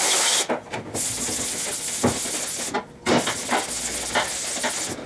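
Brush scrubbing a screen printing mesh in quick repeated strokes, a close, hissy rubbing sound that pauses briefly between passes.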